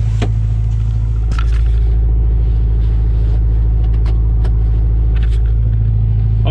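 Honda Integra with a B18 engine, suffering misfires and hesitation, pulls away on a street drive, a steady loud low engine rumble filling the cabin with occasional sharp clicks and knocks on top.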